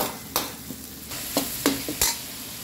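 Ground pork or beef sautéing in a pan for a stir-fried vegetable dish, with a soft steady sizzle broken by several sharp scrapes and clacks of a spatula stirring the meat.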